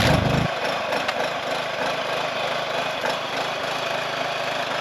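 A homemade wooden trommel spins on its first run, giving a loud, steady mechanical drone like a small engine that rumbles on without pause, after a brief heavier thump at the start.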